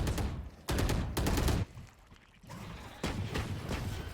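In a Valorant match at a competitive esports event, bursts of gunfire come in dense, loud volleys. Grenade blasts are mixed in, separated by short quieter gaps.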